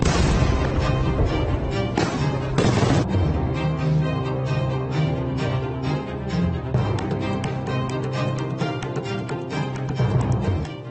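Diwali firecrackers burst in a dense, continuous barrage, loud and close, with sharp cracks and booms stacking over a rumbling low roar and a few heavier blasts standing out.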